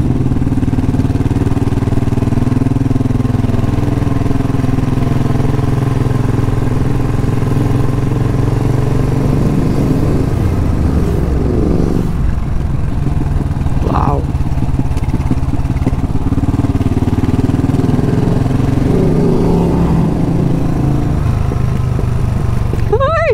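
Several scrambler motorcycles ride alongside, their engines droning steadily at close range throughout, with the pitch rising and falling as they pass and people talking intermittently over the noise.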